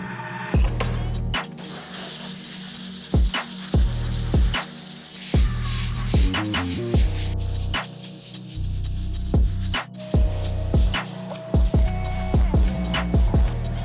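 An air compressor nozzle and a vacuum clean Nike Decade sneaker uppers, producing repeated loud bursts of hissing air broken by short pauses, with a steady hum underneath.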